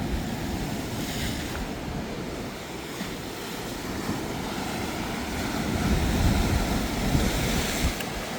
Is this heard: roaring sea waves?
yes